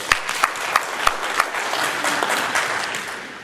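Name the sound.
audience applause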